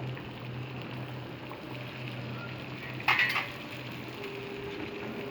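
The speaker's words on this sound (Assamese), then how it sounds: "ইয়াতে এটা এটাকৈ পিঠা ভাজি যাম" Assamese coconut pitha frying one by one in hot oil over a lowered gas flame gives a steady, soft sizzle, broken by a brief clatter of utensils partway through.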